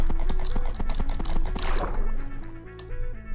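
Rhythmic hoofbeat clip-clops from a Minecraft horse over background music, then a splashing, watery transition as the steps fade while the horse swims.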